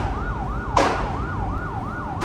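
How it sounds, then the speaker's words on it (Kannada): An ambulance siren in a video game wails in a steady rising and falling electronic tone, looping evenly with a couple of brief louder bursts over a low background rumble. "ಆಂಬುಲೆನ್ಸ್"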